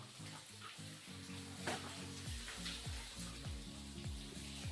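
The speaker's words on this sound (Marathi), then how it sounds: "आपल्याला करायचे ह्या भिंतींवर प्लास्टर. त्याच्यामुळं आपण मारतोय पाणी ह्या भिंतींवर." Water sprayed onto brick walls before plastering on a building site, a steady rushing hiss over a low rhythmic mechanical thumping, probably a pump, running through the whole stretch.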